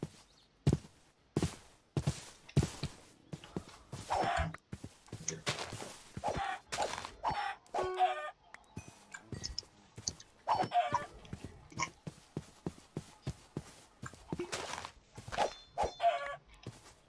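Chickens in a video game clucking and squawking continuously, a dense, busy flock with sharp repeated calls and occasional crowing, close and fairly loud, with scattered footstep-like taps and no talking.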